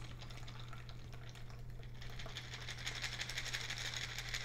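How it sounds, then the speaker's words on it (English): A caramel mudslide drink is poured from a shaker into a chocolate-rimmed glass, giving a soft, steady liquid splash and trickle that builds slightly toward the end, faint against a low background hum. "And pour it into your chocolate rimmed glass."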